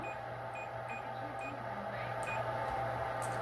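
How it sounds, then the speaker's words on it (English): An ohmmeter set to continuity gives short, faint beeps as its leads touch, several brief tones scattered over a quiet background while a vintage Sansui 331 stereo's fuses are tested. "I've got my ohm meter on the continuity range, which will make it beep whenever I short the leads together"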